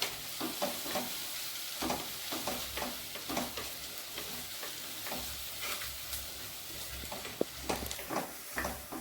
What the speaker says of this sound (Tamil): வெங்காயம் வதங்கிட்டுருக்கு